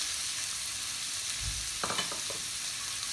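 Chopped onion and cumin seeds frying in melted butter for pav bhaji, a steady bright sizzle with a soft thump and a few brief clinks of stirring midway, no voices.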